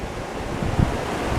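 Sea waves wash onto Mae Phim beach in Klaeng district with wind buffeting the microphone, a steady broadband rush with one louder surge partway through and no voices.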